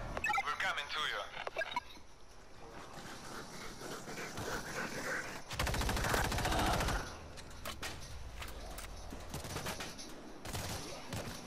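Rapid bursts of automatic gunfire in the video game World War Z crackle in the background while voices talk over them, with one heavier, louder burst in the middle.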